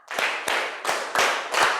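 A school class claps out a counted pattern, with five loud, sharp clap bursts spaced irregularly across under two seconds, each ringing briefly in the room.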